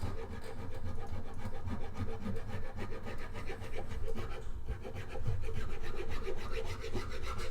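A wooden guitar neck being carved by hand, with fast, steady rasping strokes that scrape back and forth close by throughout, no voices.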